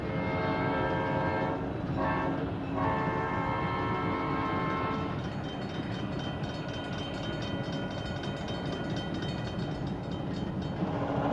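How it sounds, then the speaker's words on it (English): A Southern Pacific westbound freight train passes around milepost 43 in Niles Canyon. A steady loud rumble of wheels and cars carries throughout, with a horn blast sounding early. "the SP tracks bring a westbound freight, and a WP siding brings a waiting westbound freight"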